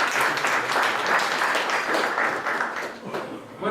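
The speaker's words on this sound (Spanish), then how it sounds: "También les pido un aplauso para él." Audience applause at a lecture on morality, religion, ethics and law, a steady wash of clapping from a crowd lasting several seconds with some voices mixed in.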